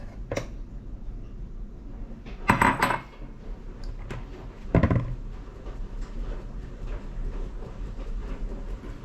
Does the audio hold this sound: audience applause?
no